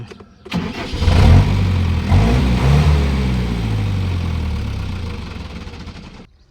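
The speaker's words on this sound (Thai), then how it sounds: "เครื่องยนต์สตาร์ทติดง่ายนะครับ4 สูบ มีเทอร์โบนะครับร้อยแรง" A New Holland 100-horsepower four-cylinder turbo tractor engine cranks and roars to life nearby, running loud and steady with a low throbbing rumble for several seconds before cutting off.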